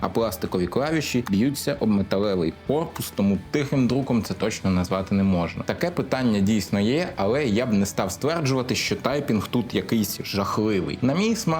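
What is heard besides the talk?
No distinct noise like a dog, phone or traffic.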